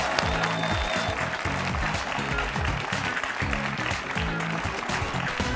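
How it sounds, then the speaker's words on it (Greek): A studio audience at a game show claps to welcome a contestant to the stage, sustained clapping under a strong rhythmic music bed, steady throughout. "Να έρθει στην παρέα μας με ένα χειροκρότημα."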